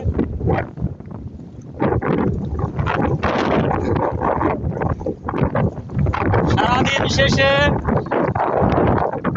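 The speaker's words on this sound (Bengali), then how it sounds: "এইরকম হাওয়া বইছে।" Wind blowing by the sea on an afternoon shore, heard as gusty rumbling buffeting that runs throughout, with a person talking over it.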